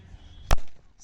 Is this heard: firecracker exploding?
yes